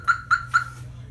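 Three short, bright electronic chirps from a Viper alarm on a 2017 Ford F-250 unlocking by remote, in quick succession, evenly spaced, then silence over a low background hum.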